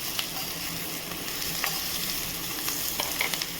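Ridge gourd, turmeric and green chillies fry in a pan for a Gujarati sambharo, giving a steady close sizzle with scattered light stirring clicks and no voices.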